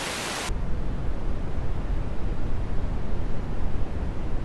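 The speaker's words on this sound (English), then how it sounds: "our midwife suggested trying brown noise because it sounds more deep and it sort of sounds like the waves" A brief hiss of bright noise gives way to steady, deep brown noise, a soft continuous rumble like distant waves.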